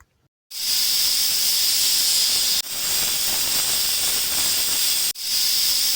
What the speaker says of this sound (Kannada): ಈಗ ನೋಡಿ ನಾನು ಮೂರು ವಿಷಲ್ ಕೂಗಿಸ್ಕೊಳ್ತೀನಿ